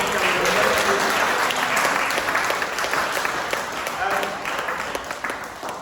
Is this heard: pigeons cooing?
no